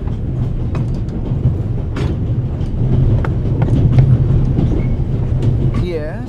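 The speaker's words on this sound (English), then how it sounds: "The noise on this train is driving me crazy." The Orient Express train rolls on in a video game with a constant low rumble and scattered rattles and clicks, steady and close, with a swelling in the middle and a brief chime-like sweep near the end.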